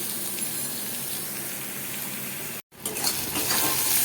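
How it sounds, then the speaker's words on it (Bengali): Onions frying with salt in a hot pan, a steady dense sizzle close up, broken by a brief cut near the middle before the crackling resumes with faint stirring underneath. "পেঁয়াজগুলো হালকা ভাজা হয়ে গেছে"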